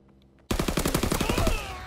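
Gunfire in a WW2 shooter on PS4 Pro, a sudden loud burst of rapid repeated shots fired close, then a ringing tail, with no talk.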